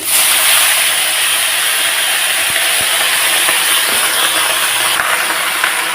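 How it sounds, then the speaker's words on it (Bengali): Bottle gourd shoots hit hot oil already holding chillies, tempering spices and flattened rice, giving a loud, steady broadband sizzle that hisses evenly for six seconds without a break. "এখন দিয়ে দেবো লাউয়ের ডোবাগুলো"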